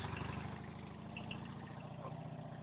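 A Fiat 126p idles with a burnt-out exhaust, giving a steady, close, rough mechanical drone with a low putter throughout and no talking.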